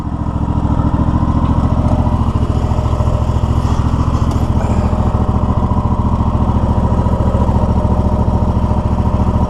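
A zero-turn lawn mower engine runs loud and steady up close, a continuous throbbing drone with faint clatter and no speech.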